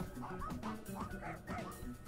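A dog in the video game Finding Paradise gives soft, repeated yips and woofs in a quick rhythmic run, faint under the game's background music.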